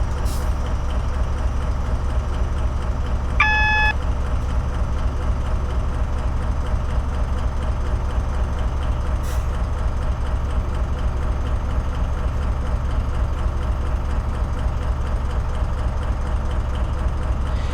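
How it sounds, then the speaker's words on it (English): Electric traction motors of a BR Class 70 PowerHaul freight locomotive hauling coal, a steady low drone and whine running throughout, with a short run of brief beeps near the start. "You can definitely hear the electric motors."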